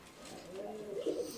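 Pigeon in a loft cooing softly, a low murmuring coo rising toward the end, faint and close, with a voice faintly in the background.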